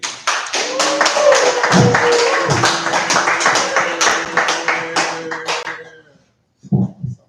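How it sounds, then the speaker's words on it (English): Audience at a comedy open mic claps steadily for a comedian, a dense, loud round of clapping with some voices mixed in that fades out before a brief final burst of sound. "Clap it up for Benji."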